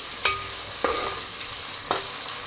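Tomato pieces cook in a frying pan while being stirred, a soft steady sizzle broken by three distinct scrapes of a utensil against the pan, close and moderately loud.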